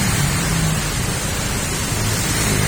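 Heavy rain pounding on a car while driving toward a bridge, a dense, steady hiss of drumming drops, loud and close, with no voices.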